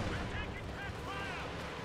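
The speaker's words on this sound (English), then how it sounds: "the Panzer Grenadiers are over here on the northern side, getting suppressed by the Maxim machine gun" Maxim machine gun fire in Company of Heroes 2, heard as a dense, continuous battlefield roar of gunfire and artillery-like bursts on the Road to Kharkov map, steady and loud throughout with game effects layered over it.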